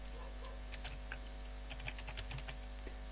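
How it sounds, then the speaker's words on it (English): Light, quick keystrokes on a computer keyboard patter in a soft, irregular run, faint and close over a steady background hum, with no voices. "so let me just type here"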